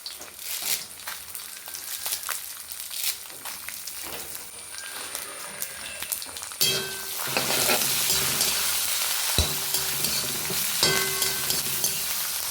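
Mustard seeds, spicy chili and curry leaves in hot oil for colocasia-leaf patrode: light crackling and stirring at first, then a loud, continuous sizzle bursts up and holds, dotted with sharp pops and scraping.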